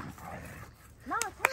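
Dogs, including a big brown dog, growl and yip while playing rough, short snarling bursts that sound vicious, close by under a person's voice.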